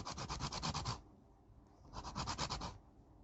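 Lime zest grated for a chocolate cake, with two quick bursts of rapid rhythmic scraping strokes, close but quiet, separated by a brief pause.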